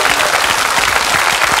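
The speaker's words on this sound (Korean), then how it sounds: "여러분에게 박수 주세요." Studio audience applause on a Korean TV family game show, a dense, loud, steady burst of many people clapping throughout.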